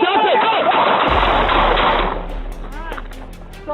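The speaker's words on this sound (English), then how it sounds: "Shots fired." Gunshots fired during a police confrontation, a rapid burst of sharp cracks with shouting voices over them, followed by sparser loud reports at close range.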